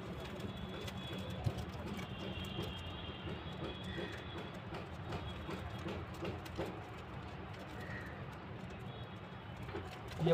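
High-flying pigeons coo softly amid a steady background rumble, with faint voices and occasional clicks throughout.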